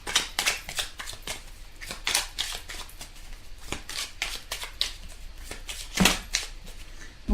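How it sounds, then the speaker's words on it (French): Tarot cards shuffled by hand in a steady run of close, crisp riffling and slapping bursts, with no voices. "Alors on va tirer quelques cartes"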